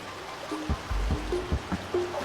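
A river stream flows over slime-covered rocks, giving a close, continuous burble and trickle with small splashes. No voices are heard.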